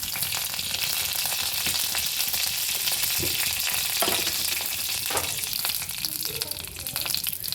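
Mustard seeds, lentils and broken dried red chillies sizzle loudly in groundnut oil, a dense continuous crackle and hiss with a few stirring scrapes and pops.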